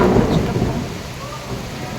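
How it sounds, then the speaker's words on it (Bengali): Steady, heavy rain pours down while deep thunder rumbles through a storm. The sound is a continuous, fairly loud wash with no voices. "মেঘ ডাকছে, মেঘের আওয়াজটা শুনতে পেলো।"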